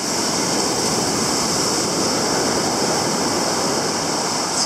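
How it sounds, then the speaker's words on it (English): Rough surf pounds the shore at Playa de los Bohíos near Punta Tuna, a dense, unbroken roar of breaking waves that stays loud and close throughout, with no voices. "And the waves are coming."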